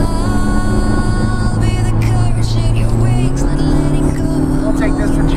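A McLaren MP4-12C supercar with a seven-speed gearbox drives around Newport Beach, its exhaust droning steadily at high revs and then climbing in pitch as it revs up, loud and close, with people talking over it.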